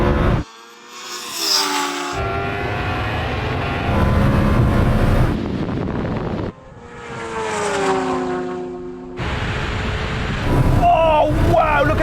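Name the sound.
Lamborghini Huracan Turbo and Kawasaki H2R racing past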